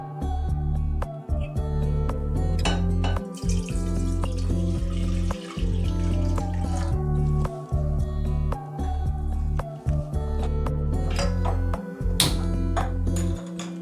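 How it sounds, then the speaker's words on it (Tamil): Milk poured into a saucepan to make a milk pudding, a steady continuous liquid pour running close and loud for most of the clip with brief pauses and light metallic pings. "அதில் வந்து நம்ம 1 லிட்டர் வந்து பால் ஊற்றிக்கலாம்."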